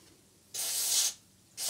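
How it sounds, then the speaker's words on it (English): Contact cleaner sprays onto the drum of an American Flyer toy train reverse unit in two bursts, a long loud close hiss and then the start of a second one. "you're going to come in here again with your magical contact cleaner, and you're going to spray the drum"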